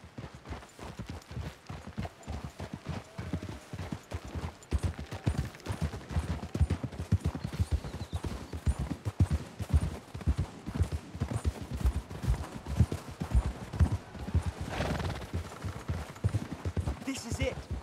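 Horses gallop in the video game Red Dead Redemption 2 with a steady, rhythmic drumming of hooves throughout, mixed with other game sounds and occasional background voices.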